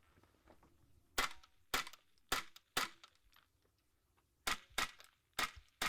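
Minirifle shots fired in a practical shooting competition: about eight sharp cracks in irregular pairs and singles, fairly close, with a shooter working from a bipod and quiet range noise between shots.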